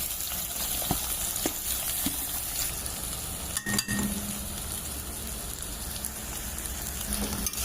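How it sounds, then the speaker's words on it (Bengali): Onions fry in hot oil with ginger and garlic for chicken egg chow mein, a steady close sizzle with faint stirring scrapes throughout and no talk. "পেঁয়াজগুলো একটু অল্প করে ভেজে নেব।"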